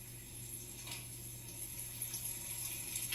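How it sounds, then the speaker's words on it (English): A sink tap runs with a steady, quiet hiss of flowing water, a faint continuous wash with no voices over it. "And of course, the sink is on."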